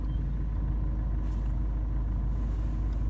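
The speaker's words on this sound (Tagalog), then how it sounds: "Ito ang pangatlong sasakyan na nasa lubong." A motor vehicle rumbles steadily along an empty early-morning street in Quezon City, a constant loud low drone with no talk.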